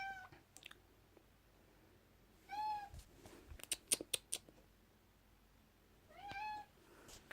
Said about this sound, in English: think my cat wants to go outside